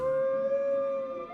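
Puppies howl in the Dragon Quest VII Reimagined video game, a single sustained, steady tonal howl that stays loud and close for just over a second, with no speech.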